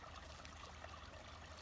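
A small, quiet stream trickles and flows steadily at low level, a soft continuous wash of water with no voices.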